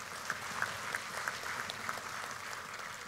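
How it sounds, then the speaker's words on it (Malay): An audience claps through a political speech at the UMNO general assembly, steady dense applause with sharper individual claps standing out, no voice over it. "MCA, tepukan untuk mereka."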